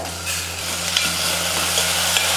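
Onions and tomatoes sautéing in a pan for a South Indian kara kuzhambu, a loud continuous sizzle with stirring scrapes and a low steady hum underneath, no voices.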